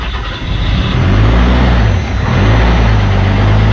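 Peterbilt diesel truck engine cold-starting after its grid heater warms the intake air, a loud close rumbling idle that runs steadily throughout with a slight dip in the middle.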